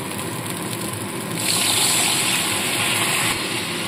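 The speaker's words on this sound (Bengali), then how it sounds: "তো চলুন এবার এখানে অল্প পরিমাণে জল দিয়ে দেবো।" A little water is poured into spice paste frying in a pan for a vegetarian pointed gourd curry, giving a steady hissing splash close by that swells midway and carries on with no voices.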